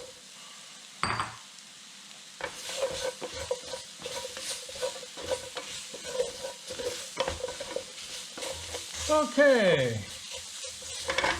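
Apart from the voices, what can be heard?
carrots frying and being stirred in a pan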